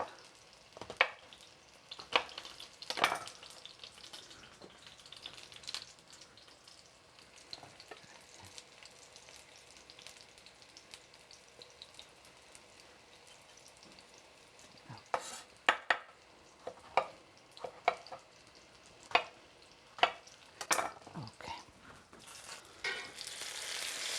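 Eggplant pieces fry in a pan with a quiet, steady sizzle, broken by repeated sharp scrapes and clacks as they are stirred and turned, heard close with no talking.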